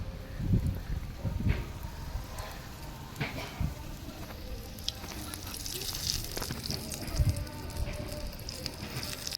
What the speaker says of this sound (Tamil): இப்போ இதை எடுத்து எண்ணெயில் போட்டு ஃப்ரை பண்ணிடலாம்.